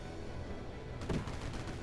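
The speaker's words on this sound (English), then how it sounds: "they're firing stuff at us" Enemy gunfire in the video game Airships: Lost, a sudden cluster of blasts after a second of steady engine-like drone, short and fairly loud against the background rumble.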